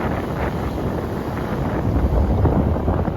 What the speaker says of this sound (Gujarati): વિશાળ સમુદ્ર ગુગવાટા કરે હો પણ મજા આવી જાય મજા આવે ઠંડો ઠંડો પવન આવતો હોય